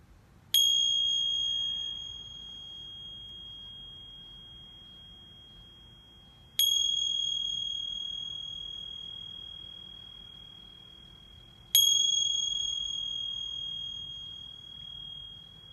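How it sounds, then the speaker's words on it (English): A meditation bell is struck three times at slow, even intervals, each clear ring sustaining and fading gradually over a quiet background. "And then receiving the sounds of the bell."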